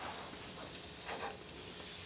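Brown butter sizzling in a pan, a quiet steady crackle and hiss with small spitting pops, continuous and close with no talking.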